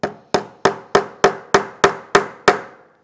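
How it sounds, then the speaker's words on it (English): A hammer strikes a nail into a wooden lap desk nine times in a steady rhythm, each blow a sharp close knock with a short ringing decay. "I'm going to go ahead and tack in my first nail"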